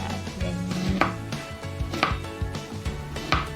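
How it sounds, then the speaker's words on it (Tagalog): A knife slices fresh ginger thinly for lemon ginger turmeric tea, giving crisp, close chopping taps on a board at a quick, fairly regular pace with no voices. "And then yung ginger natin, guys, i-slice din natin siya ng maninipis lang"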